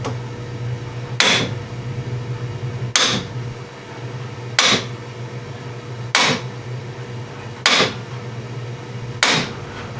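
A big hammer strikes the front axle of a Bobcat S185 Turbo skid steer six times at an even pace, each blow a loud, sharp metallic clang followed by a brief ringing tone, with quieter gaps between hits.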